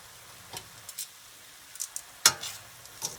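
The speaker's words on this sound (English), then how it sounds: "Onions, garlic's cooking down." Onions and garlic cook down in a pan for Cajun chicken and shrimp Alfredo, giving a faint, steady sizzle broken by scattered sharp pops and crackles, with no talking.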